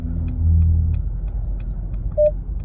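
Short electronic chime from a Mercedes-Benz S-Class car system, a single brief tone sounding near the end over a low idling rumble with faint ticking.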